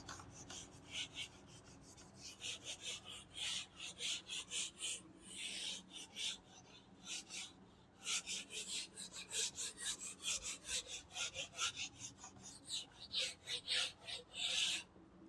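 An eraser scrubs quickly back and forth over written text on paper, a dry rhythmic rasping that keeps going in short bursts, close up and fairly quiet.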